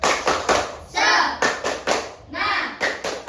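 A class of children performs a rhythmic spirit clap in an Indonesian classroom, loud hand claps in short patterned bursts that alternate with brief pauses and group chanting.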